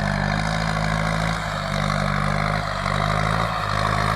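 Kubota M6240 tractor engine running steadily in a field during land leveling, a loud, low, continuous rumble with slight surges, no voices.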